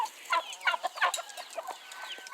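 Agitated clucking and squawking from turkey toms fighting in short bursts, several birds calling over one another at close range.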